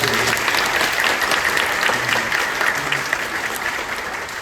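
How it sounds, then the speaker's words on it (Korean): Steady applause from a church congregation at a gospel evangelism festival, thanking the worship team; dense, continuous clapping fills the room at an even level from start to finish. "우리 수고한 예배팀에게 우리 박수를 한번 보내주십시오"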